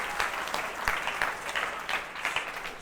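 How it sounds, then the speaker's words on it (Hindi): A room of people clapping for Shivam at a group session, dense steady applause of many hands, close and lively, lasting a few seconds. "शिवम के लिए भी तालियां"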